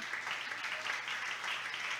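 A Spanish-speaking church congregation applauds during a sermon, a continuous, even wash of clapping lasting a couple of seconds with no voice over it.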